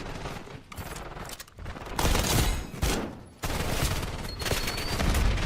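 Dense video game gunfire, a rapid sustained barrage of many bullets with loud bursts and brief lulls, continuous across the whole stretch.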